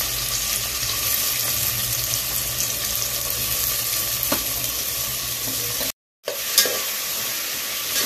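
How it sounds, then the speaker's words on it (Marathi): Chopped onion frying in ghee sizzles loudly and continuously, with stirring scrapes throughout. Near the end the sound cuts out for a moment and then comes back. "आता हा बऱ्यापैकी आता परतून घेऊया, गोल्डन ब्राउन होण्यापर्यंत ह्याला आता परतून घ्यायचं।"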